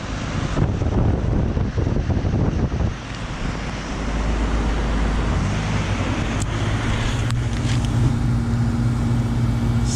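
A 1984 Bryant BDP three-phase heat pump with a Copeland compressor running in heat mode, a loud steady rumbling drone with broad whooshing fan air and a faint hum, heard up close.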